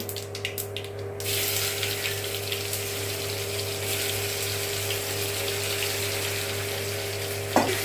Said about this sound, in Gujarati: હવે આપણા જે રીંગણા છે એ નાખી દઈશું